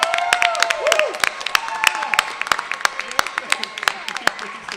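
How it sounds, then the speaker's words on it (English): An audience at a student leadership awards ceremony claps steadily, with bright hand claps and some cheering running under a speaker's amplified voice. "A bit of round of applause."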